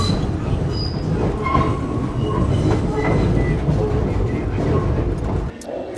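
A Paris-style metro train runs on its rails with a loud, steady rumble and roar of wheels, close and continuous, easing off at the very end.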